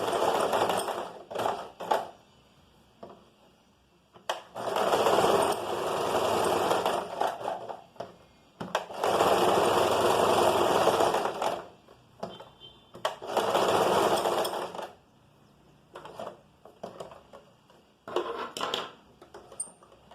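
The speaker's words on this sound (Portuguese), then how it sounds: "costura pelo avesso e aqui costura normal com 1 centímetro de margem" A sewing machine stitches a fabric seam with a one-centimetre margin and backstitching, running in loud, steady bursts of several seconds separated by short pauses and quieter clicks.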